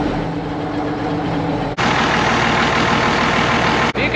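A farm feed mixer's engine idles steadily up close, a continuous low rumble with a brief dropout partway through and another near the end.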